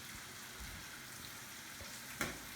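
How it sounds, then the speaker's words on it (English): Squash frying in a pan and being pushed around, a steady soft sizzle with faint scraping stirs and one brief sharper clink near the end, fairly quiet and without talk. "Give our squash a quick push around."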